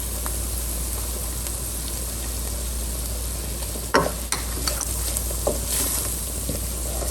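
Garlic sizzling in a hot pan as flour is added, a steady frying hiss throughout with a few brief stirring scrapes and clicks partway through.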